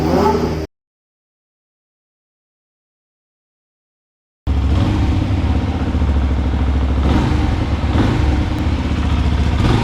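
A brand-new 125cc motorcycle engine still in its break-in period runs at a steady, close, fairly loud idle with a slight clatter. A short burst is followed by several seconds of total silence before the engine resumes continuously.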